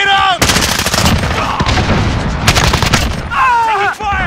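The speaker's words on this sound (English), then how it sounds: "Grenade out!" Explosive boom of a grenade in the Modern Warfare shooter with an AK-74M, set amid loud bursts of rapid gunfire and shouted voices, the blasts hitting sharply near the start and again midway.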